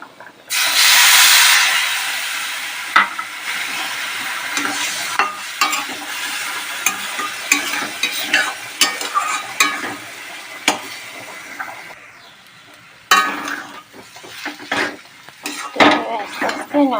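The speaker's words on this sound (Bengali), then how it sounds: "আস্তে আস্তে নাড়তে নাড়তে এটা ঝুড়ো হবে" Roasted semolina, fried potatoes and a cup of water are stirred in a pan for spicy jhal suji: a spoon scrapes and clinks against the metal in irregular knocks over a low hiss, close and fairly loud.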